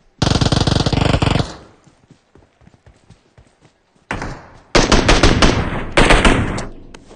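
Rapid automatic gunfire in the mobile game PUBG Mobile: one loud sustained burst at the start, a pause with scattered faint shots, then heavier near bursts that run to the end, with no voices.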